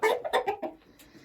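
A brown laying hen of the Dominant breed, which lays greenish eggs, gives a short close run of four or five clucks that fade out, alone without talk.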